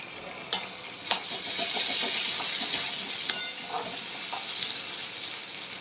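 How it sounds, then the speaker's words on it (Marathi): Onions frying with ginger-garlic paste in a pan give a steady close sizzle and hiss, broken by a few sharp stirring clinks and scrapes, with no talk. "कांद्याला मस्त गोल्डन ब्राऊन कलर येईपर्यंत आपल्याला तळून घ्यायचं आहे"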